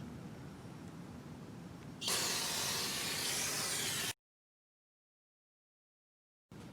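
An aerosol cleaner hisses as it is sprayed onto a new brake rotor of a first-generation Cummins truck. One close, steady two-second spray is followed by silence, and then another spray begins.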